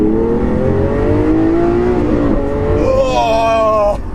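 A modified Lamborghini Aventador engine revs up hard in a low gear, the pitch climbing steadily before a sharp upward shift near the end, loud and close.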